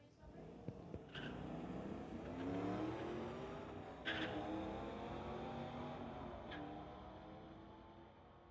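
Drag race cars, including a 1972 Buick, roaring down a street-legal drag strip, engines revving loudly and steadily through the run with a couple of sharp bursts.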